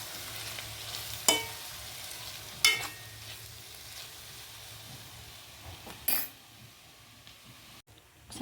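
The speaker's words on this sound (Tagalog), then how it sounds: "Haluin lang." Mushrooms frying in a pan for pasta carbonara with a faint, steady sizzle and a few sharp clinks of the utensil against the pan as they are stirred, no voices.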